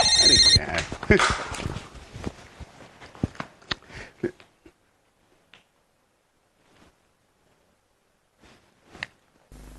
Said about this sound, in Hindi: मम्मी मम्मी फोन उठाना प्लीज